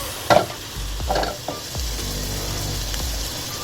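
Onion, garlic and ginger frying in a pan, a close sizzle broken by a few scraping stirs and clinks of a utensil, followed by a steady hiss, without speech.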